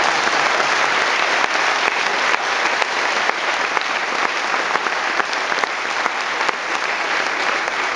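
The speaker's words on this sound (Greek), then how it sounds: "Αυτό το χειροκρότημα που χρωστάτε" An audience at a concert in Naousa keeps up steady, loud applause throughout, a dense unbroken roar of clapping.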